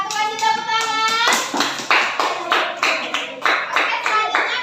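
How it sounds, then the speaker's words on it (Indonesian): A classroom group giving a round of applause for the first group, loud close hand clapping in an uneven rapid rhythm lasting the whole stretch. "Terima kasih kelompok 1, kasih tepuk tangan."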